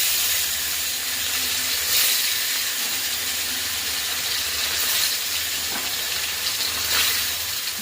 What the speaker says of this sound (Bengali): রুই মাছ রান্না করতে প্রথমে কড়াতে দিয়ে দিলাম তেল, আর মাছগুলো ভেজে নেব।